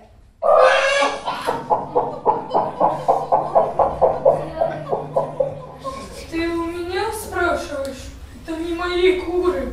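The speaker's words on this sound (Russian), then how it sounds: "мои куры." Chickens cluck in a fast, even run of short rhythmic clucks during a theatrical performance. Voices and livelier squawking sounds follow, all close and loud.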